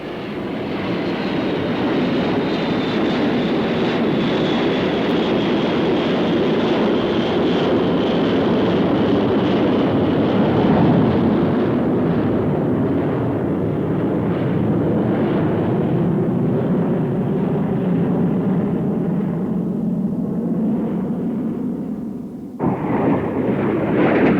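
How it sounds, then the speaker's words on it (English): Patrouille de France Magister V-tail jet trainers pass overhead at an air show, a loud continuous jet roar whose pitch slowly sweeps downward as the aircraft move by. "The French Air Force's aerobatic team, the Patrol de France, flying V-tail Magister trainers."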